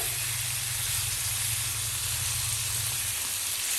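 Small pieces of chicken cooking in a pan over high flame give off a loud, steady sizzle and hiss that holds unchanged throughout, with a low hum beneath it and no talk.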